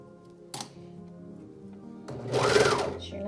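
A sewing machine stitches gathered fabric in a short run, with a brief burst early on and a louder, steadier whirring stretch toward the end, close up and without talk.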